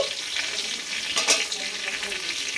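Capsicum sizzles steadily in a hot home-kitchen pan and is stirred, giving a continuous bright frying hiss with a brief louder scrape near the middle. No one speaks.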